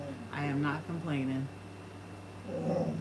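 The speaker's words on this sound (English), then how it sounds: "Actually, that's my dog in the background." A dog grunts and whimpers faintly in the background while a person speaks over it, the low whines continuing under and after the talk.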